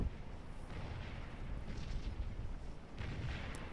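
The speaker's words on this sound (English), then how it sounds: "Kind of firing into their flank line there." Battle fire in Scourge of War: Gettysburg during an Antietam engagement sounds as a faint, rumbling crackle of distant volleys and booms that rolls on continuously across the field.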